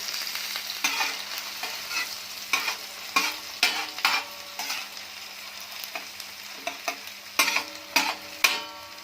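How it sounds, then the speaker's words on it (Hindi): Onions fry in a pan for tawa chicken with a constant close sizzle, punctuated by frequent sharp clacks of a utensil stirring and scraping. "प्याज को हम कर लेंगे फ्राई अच्छी तरह से"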